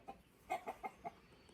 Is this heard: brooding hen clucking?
yes